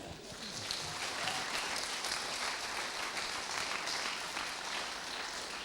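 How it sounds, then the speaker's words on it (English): A comedy night audience applauds steadily, a dense wash of many hands clapping that holds at a constant level throughout. "we should all show our round of applause again for 4 amazing acts"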